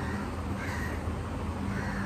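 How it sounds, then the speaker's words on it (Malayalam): A crow caws close by, its harsh calls sounding over a steady background hiss with no talking. "കാക്കേ ഒന്ന് പോകാക്കേ"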